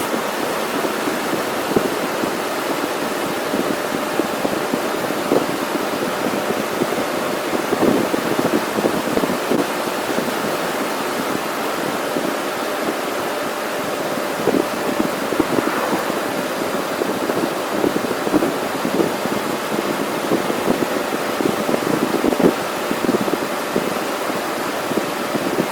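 Steady, loud rushing wind noise buffets the microphone while riding a Can-Am Spyder at about 50 mph, a continuous roar with slight gusting swells throughout.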